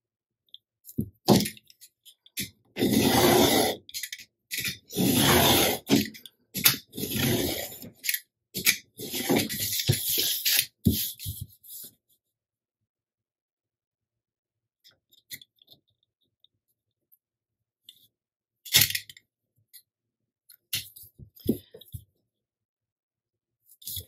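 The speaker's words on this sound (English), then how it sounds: "Cut your strips with the grain." Thin wood strips being cut along the grain for a Japanese-style box lid, a run of dense crunching and tearing bursts for about ten seconds, then sparse faint clicks and short cuts after a long quiet gap.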